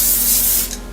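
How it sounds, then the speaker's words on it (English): A single quick hiss of cooking spray onto a parchment sheet, close and loud, lasting under a second and tapering off. "Okay, so another quick spray."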